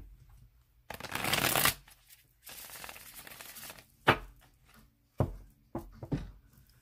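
Tarot cards are shuffled up close in several quick riffling bursts, followed by a few sharp taps and snaps of the deck, crisp and fairly quiet.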